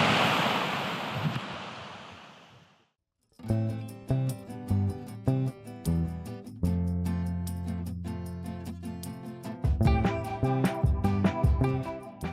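A high-running river in Idaho's Sawtooth Wilderness roars loudly for a few seconds, then cuts off and music takes over.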